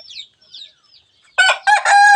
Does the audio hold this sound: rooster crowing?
yes